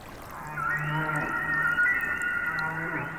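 Humpback whale song recorded underwater in the Pacific, long tonal moans and sliding wails layered over one another, a sustained eerie call that swells after a quiet start and holds for the rest.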